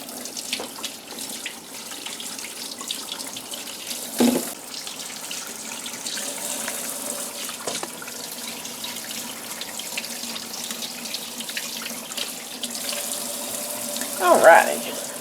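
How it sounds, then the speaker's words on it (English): Peaches washed under a running kitchen tap, a steady splash of water into the sink with a few sharper splashes and handling knocks throughout. "I'm going to start out by washing the peaches."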